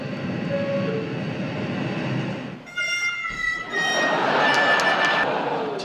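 Subway train rolling past, a steady roar of wheels and rails that swells and shifts midway with brief squealing tones, loud and close with no talk over it.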